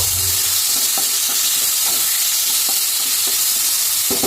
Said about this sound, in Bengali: আর আলুগুলোকে হালকা একটু ভেজে নেব এইভাবে নেড়ে ফেড়ে